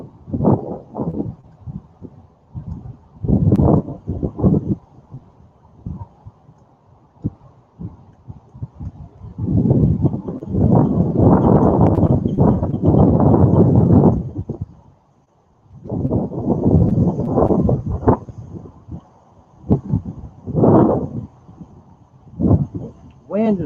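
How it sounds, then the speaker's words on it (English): Gusts of wind buffet an outdoor webcam microphone, swelling into long rumbling bursts and easing between them, loud and close, with a person talking intermittently. "Wind is loud."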